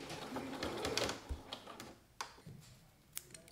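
A sewing machine stitches a seam a centimetre from the edge, joining the handles of a pack-away shopper bag; a faint, rapid ticking chatter runs for a few seconds with a couple of sharper clicks.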